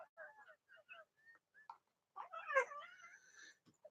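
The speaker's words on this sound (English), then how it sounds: "Do you hear her meowing?" A cat meows at close range, first with several short chirping calls and then a longer, drawn-out wail, quiet and alone in a still room.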